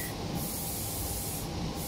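A spray paint can hisses in one steady, continuous burst, loud and close, filling the whole stretch with broadband spray noise and no speech.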